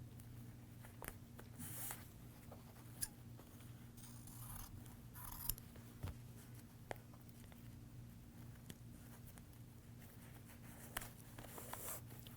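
Scissors snipping through woven fabric along the line left by a pulled thread, quiet close crisp cuts repeating at an irregular pace over a faint background hum, with no talking.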